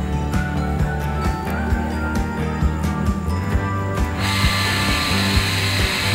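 A Shimizu electric water pump with newly replaced bearings starts and runs, giving a repetitive ticking mechanical clatter over a low motor hum. Midway it shifts into a broader, steady whir. No talking.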